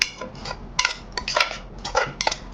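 Onions and green chillies stirred in a pan, with a utensil scraping and clinking against the metal in several quick, close strokes and no voices.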